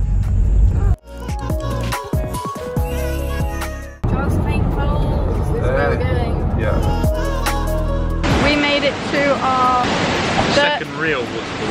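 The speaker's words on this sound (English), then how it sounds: "I don't know if you can hear me because the water's so loud." Josephine Falls, a rainforest waterfall in Australia, roars with loud, constant rushing water close by, wind buffeting the microphone and voices partly buried beneath the torrent.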